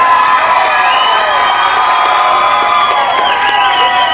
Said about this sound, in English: Give a big round of applause for our first fighter